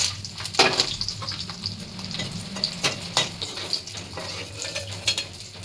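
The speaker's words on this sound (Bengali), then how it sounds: "আর আগে বড়িগুলো ভেজে তুলে নেব" Lentil dumplings (bori) fry in hot oil in a wok with a continuous close sizzle, broken by sharp clinks and scrapes of a utensil stirring against the pan.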